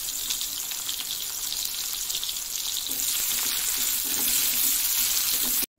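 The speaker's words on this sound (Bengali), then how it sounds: "পেঁয়াজটাকে ভালো করে ফ্রাই করে নিতে হবে।" Chopped onions fry in a pan for a Bengali chakia fish curry, giving a continuous bright, hissing sizzle that swells slightly toward the end before cutting off abruptly.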